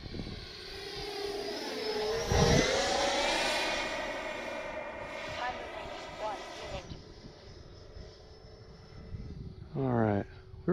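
A Freewing 80mm Avanti S V2 electric ducted-fan RC jet roars past with a rising and falling whine that peaks loudly and then fades, while a person talks through much of it.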